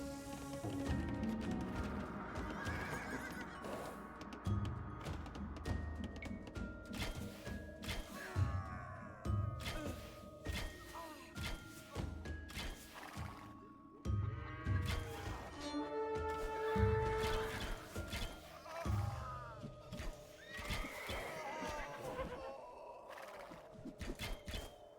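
Busy Age of Empires 2 battle ambience with horse archers, scattered neighs and hoofbeats mixed among clashes, thuds and constant game effects, loud and dense throughout.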